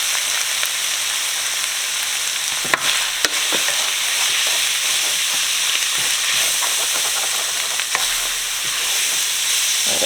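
Flour is stirred into ground beef frying in a pan, giving a constant loud sizzle with scattered spatula scrapes and clicks against the pan over about ten seconds.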